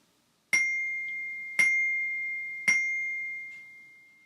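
Orchestra bells struck three times with a marimba rubber mallet, producing softer, rounder metallic tones with a gentle attack and long sustained ring, evenly spaced and quiet, with no other sound.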